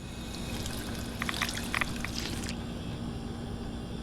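Irradiated water pours in the VR game Fallout 4 VR as a steady splashing trickle with brief brighter bursts, then cuts off partway through under a constant background hum.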